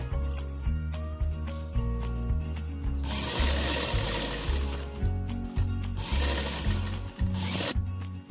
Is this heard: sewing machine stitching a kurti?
yes